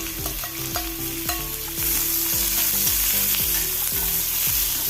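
Finely chopped onions and mustard seeds sauté in hot oil, a steady close sizzle broken by repeated scraping stirs, growing louder partway through with no voices.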